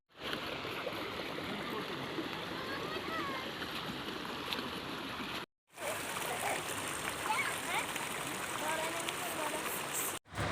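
A flowing river rushes and splashes steadily nearby, a soft continuous watery wash with brief gaps, while people talk faintly over it.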